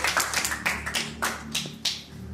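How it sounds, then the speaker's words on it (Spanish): At a San Clemente book presentation of love and peace poetry, a handful of close, sharp claps ring out irregularly, sounding like a small audience's sparse applause. "Les tenemos un aplauso"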